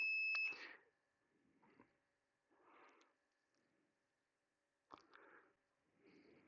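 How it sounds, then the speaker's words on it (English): Instrument cluster of a 2000 Audi TT running a self-test, giving a sharp electronic beep at the start and another later, with soft mechanical clicks and faint murmurs between, quiet and close. "Now I'm doing another beep in here."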